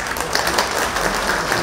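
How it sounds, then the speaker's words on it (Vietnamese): Audience applause at a Vietnamese live music show, a dense steady wash of clapping from a crowd close by, filling the short moment without pause. "Một lần nữa xin được một tràng pháo tay lớn dành cho tất cả quý vị."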